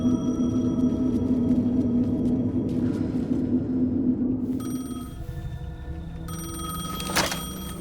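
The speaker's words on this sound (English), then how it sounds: "The payphone was ringing." A payphone rings in the video game Alan Wake 2: a loud electronic bell trill that pulses in repeated bursts over a low ambient rumble, with no voices.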